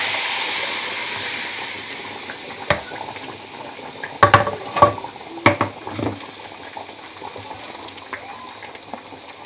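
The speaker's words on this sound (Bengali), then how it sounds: "পানি দিয়েছি" Water is poured into a pot of fried rice during mutton biryani cooking, giving a hissing sizzle with several sharp splashes and clatters in the middle before settling into a softer simmer.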